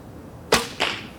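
Two quick sharp whooshing snaps of an arrow shot from a traditional bow, a short bright release followed by a second impact-like swish, close and clear with no talk.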